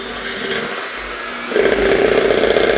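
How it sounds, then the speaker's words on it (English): An electric mixer on low speed churns banana bread batter with sour cream and chocolate chips, a steady close motor drone that jumps louder and busier about halfway through. "Turn your mixer on low."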